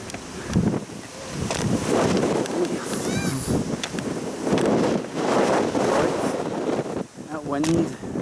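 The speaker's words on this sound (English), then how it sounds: "really windy." Strong wind blows on top of Dumbarton Rock, buffeting the microphone with loud, gusty rumbles that rise and fall throughout, while a person talks over it.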